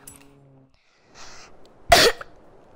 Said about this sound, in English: I know I'm coughing so much.